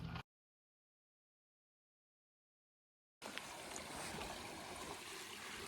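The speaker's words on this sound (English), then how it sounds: "we got a decent amount of water flowing through the Amargosa River right now" Water flowing in the Amargosa River in the Mojave Desert: a soft, steady trickle and rush of stream water. It starts briefly, cuts to silence, then returns and continues evenly.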